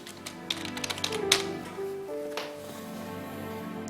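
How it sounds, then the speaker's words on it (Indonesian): Typing on a keyboard while replying to work email, a quick run of light taps and clicks near the start, followed by a soft musical background with sustained tones. "Lagi ngetik apa sih kamu? Serius amat?"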